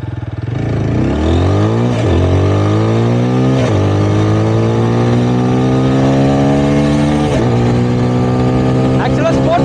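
A 2025 TVS Apache 160 4V base-model motorcycle rides in sport mode, its engine revving up through repeated gear shifts with rising pitch sweeps, loud and close over continuous wind noise.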